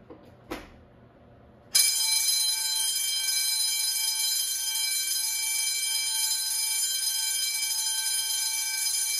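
An Edwards electric fire alarm bell, model MB 10-24 or 439D-AWC, starts abruptly after a few faint knocks and rings continuously, loud and close, as a bright steady metallic clang that holds for the rest of the stretch.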